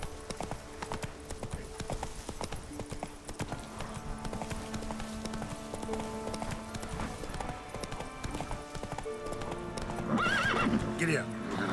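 Roach, the horse in the video game Witcher 3, gallops with rapid steady hoofbeats under continuous talk, then gives a loud whinnying neigh near the end.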